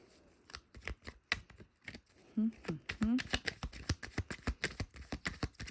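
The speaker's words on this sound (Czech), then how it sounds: "Dávám vždycky 8 kartiček většinou, jo." Tarot cards being shuffled and dealt onto a table in a reading, a rapid series of crisp flicks and taps at close range, with a voice talking over them.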